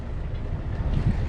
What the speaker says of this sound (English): Engine's on, everything's running.